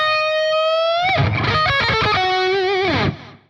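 A distorted electric guitar plays a blues scale phrase: a sustained bent note, then a quick run of picked notes stepping downward, ending on a held, vibrato-laden tone that fades out, loud and solo.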